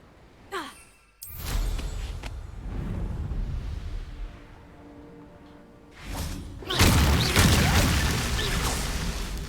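A Confringo blasting spell fires in a Hogwarts wizarding game, with sharp whooshing bursts and heavy thumping impacts, then a rumbling stretch before a second loud explosive burst that lingers into noisy debris.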